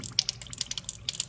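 A thin stream of water runs from a tap in a physics lab electrostatics demonstration, giving a close, steady patter of tiny splashes and drips into a sink, with no talk.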